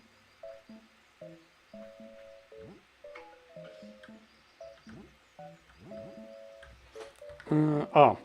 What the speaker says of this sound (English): that was just my phone reminding me that I have a stream in 10 minutes